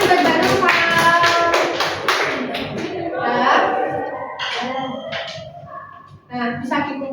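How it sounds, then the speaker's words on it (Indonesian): A classroom group applauds Mbak Nova after a teaching simulation, a dense burst of clapping that thins out into scattered claps, with voices talking over it. "Tepuk tangan buat Mbak Nova"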